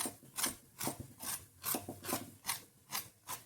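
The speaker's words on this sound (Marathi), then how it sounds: "खमंग ही पोळी भाजून घ्यायची आहे" A besan poli roasts on a hot pan, giving rhythmic rubbing, scraping strokes about twice a second, close and fairly quiet, with no voices.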